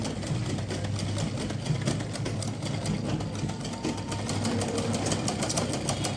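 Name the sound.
sewing machine stitching baby suit piping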